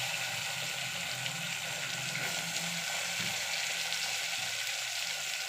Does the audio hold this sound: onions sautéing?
yes